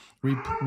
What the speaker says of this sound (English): sorry if you heard my dog in the background